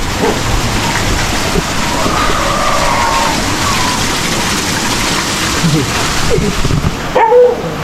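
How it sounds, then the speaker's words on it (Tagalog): A dog on top of a house roof in a backyard farm barks and yips in short bursts, partly masked by a steady rain-like hiss, with faint voices in the background. "may po na aso sa ibabaw ng bubong"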